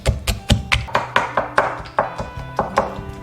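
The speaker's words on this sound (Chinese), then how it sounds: "用捣棒剁一些菠萝汁。" A pestle pounds chunks of pineapple to draw out juice, giving a steady series of about fifteen sharp, close taps and thuds in an even rhythm, with no talk.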